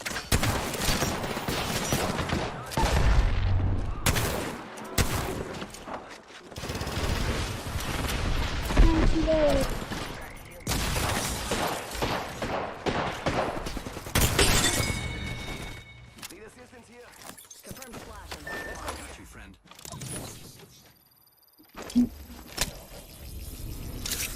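Rapid bursts of gunfire and explosions fill a round of the video game Apex Legends, repeated volleys crackling loudly and unevenly, with players talking over the action throughout.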